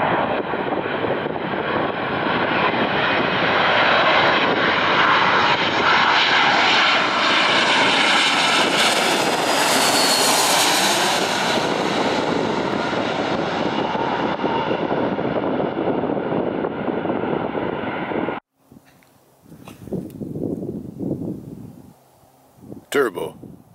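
A plane flying overhead near a hilltop, a loud engine roar swelling and sweeping in pitch as it passes, then cutting off sharply; afterward a voice talks briefly in quieter surroundings.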